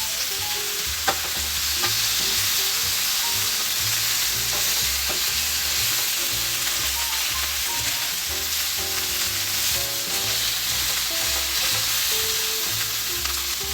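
A steak, flipped in a hot pan and cooking toward medium well, sizzles loudly and steadily throughout with dense crackling fat spatter, close and continuous with no talk.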